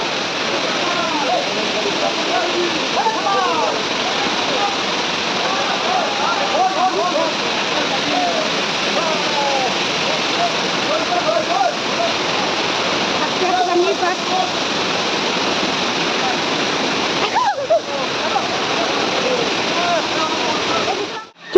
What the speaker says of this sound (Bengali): এবার তো আবার ঝর্ণা চলছে এখানে